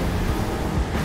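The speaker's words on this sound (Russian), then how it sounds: "Слышите, да? Это звучит почти как водопад." Rushing water from a waterfall in Minecraft: Story Mode forms a steady, dense roar with no break, filling a brief moment at close range.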